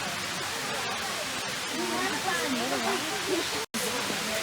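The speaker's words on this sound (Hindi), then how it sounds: "वाटरफॉल ओवर देयर, वहाँ पर जा रहे हैं।" A monsoon waterfall near Mulshi, Pune, makes a constant broad rushing roar along a trekking trail, with voices talking faintly beneath the noise.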